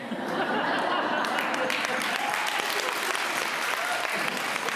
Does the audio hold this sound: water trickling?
no